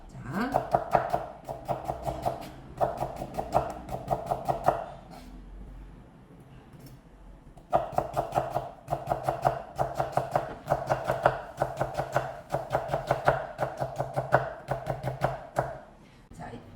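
A knife cuts radish into very thin julienne strips on a cutting board, making rapid, steady rhythmic chopping taps close up. The chopping stops briefly midway, then resumes at the same brisk pace.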